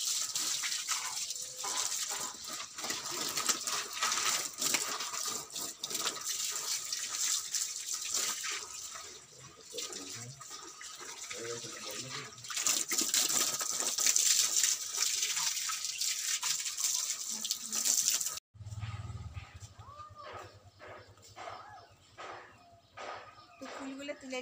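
Tap water runs steadily while tulsi flower buds are rinsed at home, a continuous splashing hiss for most of the stretch before cutting off, with a person talking over it throughout.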